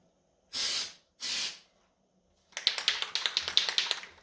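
Two short bursts of glitter spray paint hiss up close, then a rapid series of quick ticking rattles follows.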